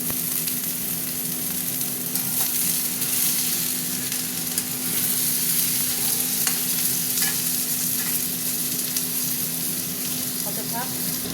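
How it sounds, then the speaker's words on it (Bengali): Potatoes and onions fry together in a pan with a continuous close sizzle, while a utensil stirs and scrapes through them at intervals. A low steady hum sits underneath and no one speaks. "আলুটা ভাজি"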